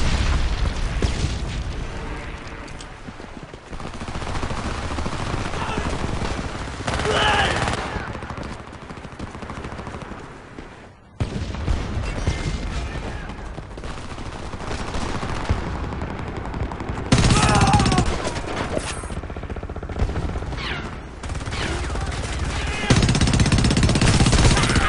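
Loud, dense battlefield gunfire from the video game Homefront, with rapid automatic bursts, heavy booms and explosions that carry on almost without pause, with radio chatter and shouted voices mixed in.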